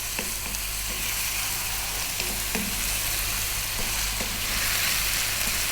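Beef stew spices frying in a pan and stirred constantly, with a dense continuous sizzle and occasional soft scrapes of the spoon, close and alone under a low steady hum.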